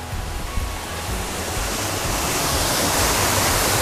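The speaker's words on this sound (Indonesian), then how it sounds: "Jadi sejak zaman dulu sampai sekarang air terjun ini masih seperti ini." Natural mountain waterfall beside the road up to the hilltop tomb of Sunan Muria, a dense, steady roaring rush of falling water that swells slightly louder toward the end.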